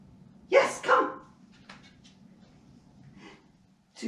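Two quick dog barks close by during handling-leg dog training, then a quiet stretch with faint sniffing or small noises before another short bark at the end.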